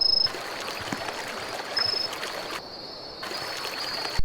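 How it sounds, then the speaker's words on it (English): Running water in a Roblox driving game, a faint, steady trickling hiss that drops out briefly midway and then resumes, with a thin high tone running through it. "It's like water running."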